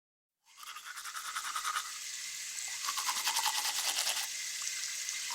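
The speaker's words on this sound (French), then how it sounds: "Je me brosse les dents." Close, rhythmic scrubbing of a toothbrush in a bathroom sink area, starting abruptly after a brief silence and continuing in quick back-and-forth strokes, with a faint wash of running water behind it.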